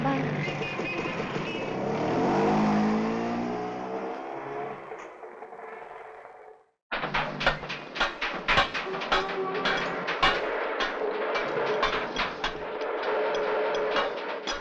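A scooter pulls away, its engine loud at first and fading steadily over several seconds before a sudden cut to a busier scene with clattering and voices.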